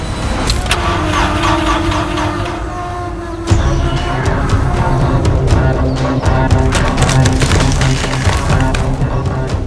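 A car engine cranks repeatedly but fails to start, with a loud, rough, rhythmic churning that carries on throughout without catching.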